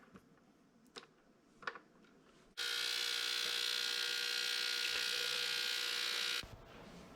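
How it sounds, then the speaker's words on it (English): An ultrasonic cleaner holding Keurig check valve parts hums with a steady, even high-pitched buzz for about four seconds, then shuts off abruptly, after a few faint clicks and handling sounds. "I'm just going to put this all inside one of these ultrasonic cleaners"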